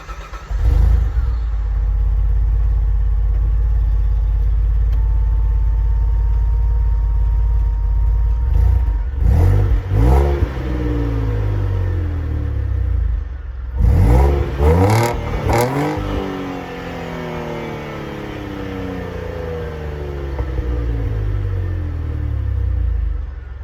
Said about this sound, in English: So I will go ahead and pop the hood, show you everything, and give it a cold start.